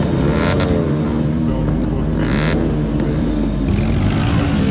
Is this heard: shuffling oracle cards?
no